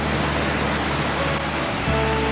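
A waterfall pours beside riverside restaurants with tatami seating in Kibune, Kyoto, giving a steady, full-band rush of falling water that stays even and continuous for the whole stretch, with no voices over it.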